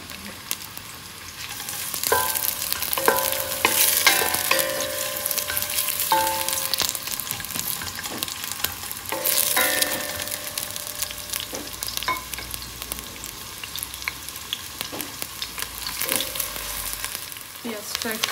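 Chopped onions fry in oil with a constant bright sizzle, punctuated by repeated spoon clinks and scrapes against the pan, close and fairly loud with no speech.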